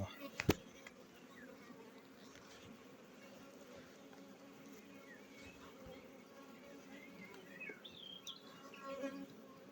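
Honeybees fly around a hive at an apiary, a faint steady buzz throughout with a sharp knock near the start and a few distant bird chirps.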